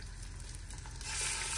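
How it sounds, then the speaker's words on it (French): Pieces of meat sizzle and fry steadily in sunflower oil inside a pressure cooker, a close, continuous crackle that grows slightly louder toward the end. "Et je fais bien revenir mes morceaux de viande pour qu'ils dégagent bien tout le gras."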